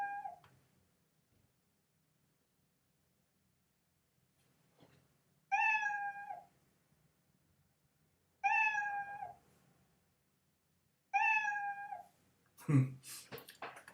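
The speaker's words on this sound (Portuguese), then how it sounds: "Se você só colocar aqui o somzinho dele, ó, som, miau." Cartoonish cat meow sound effect in a Scratch webcam game, repeated three times at regular intervals with silent gaps between, fairly loud and clear, followed by a brief burst of noise.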